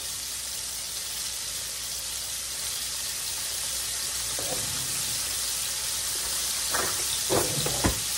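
Steak searing in a hot pan for a Swiss steak, a steady loud sizzle filling the whole clip, with a few sharper spits and pops toward the end and no talking.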